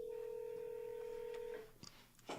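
A telephone line carries a steady dial tone for about a second and a half, followed by a few short, clipped keypad beeps as a number is dialed, clear and close with no talking.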